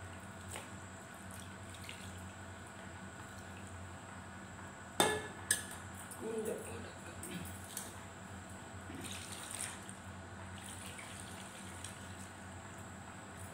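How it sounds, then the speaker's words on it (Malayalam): An elderly person's feet are washed in warm water, with soft splashing and trickling at low volume, a couple of louder knocks from a basin, and occasional drips. "ഇളം ചൂടുവെള്ളത്തിലാണേ വാഷ് ചെയ്യേണ്ടത്"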